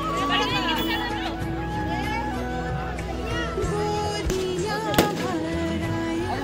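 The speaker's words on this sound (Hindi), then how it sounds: "बम पटाखे तो ऐसे फोड़ रहे हैं जैसे हिंदुस्तान और पाकिस्तान का युद्ध चल रहा है" Firecrackers and bombs bursting at a crowded Chhath Puja ghat on a foggy morning, sharp cracks standing out over a dense hubbub of crowd chatter and children, with one loud bang near the end.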